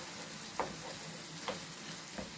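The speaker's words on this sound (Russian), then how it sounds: "Чуть-чуть пообжариваем." Peppers and tomatoes fry in a pan with a steady, dense sizzle, joined by a few soft stirring scrapes at intervals.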